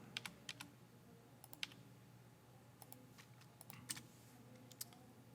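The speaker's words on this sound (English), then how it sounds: "now let's go to the calculator and start typing away." Light, quiet taps on calculator keys come in small irregular clusters against a low background hum.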